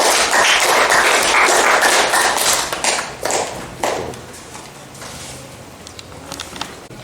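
Classroom applause from students for a classmate who has just read aloud, dense clapping at first that thins into scattered claps and then fades, with a few isolated taps near the end.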